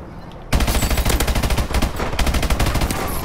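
Rapid, loud automatic gunfire from a sentry gun in Call of Duty: Advanced Warfare bursts in after a short quiet lead-in and keeps rattling in dense, steady volleys to the end.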